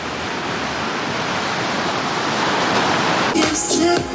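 Broad, steady wash of surf and wind on Chaweng beach, Koh Samui, heard close and loud, with a brief burst of voices or other activity near the end.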